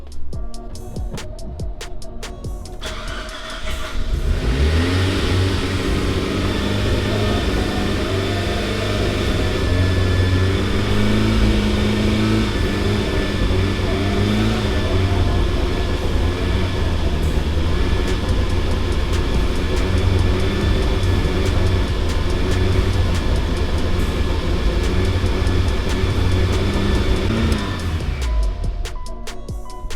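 A Mitsubishi Lancer Evolution IX engine starts up and runs at an abnormally high, steady idle with a loud, sustained droning whine for most of the time before cutting off near the end.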